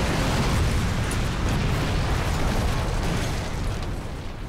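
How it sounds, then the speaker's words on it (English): An explosion blasts a refinery door in a video game cutscene, heard as a loud, sustained roaring rumble that fills the clip alone and fades slightly toward the end. "That was one big explosion in the refinery."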